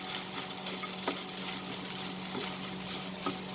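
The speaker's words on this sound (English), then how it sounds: "cook for another 2 minutes over high flame, sauteing it continuously." Vegetable upma sautés in a pan over high flame, a steady low sizzle with soft periodic scrapes of a spoon stirring continuously, quiet and close with no voices.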